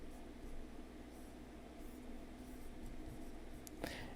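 A pen sketches a circuit diagram on paper, giving soft, faint scratching strokes against a quiet background hum.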